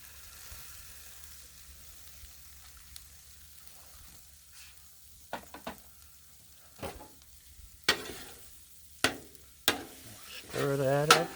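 Jackfruit in barbecue sauce and liquid smoke cooking on a griddle, a low steady sizzle under scattered scraping and stirring scrapes that grow louder toward the end, with a brief voice near the close.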